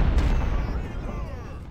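Massed artillery fire from a big unit in Ultimate General: Civil War at the Battle of First Bull Run, a heavy low boom that rolls and fades over a second and a half, with a voice talking over it.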